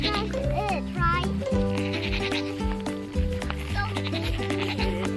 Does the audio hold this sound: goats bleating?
yes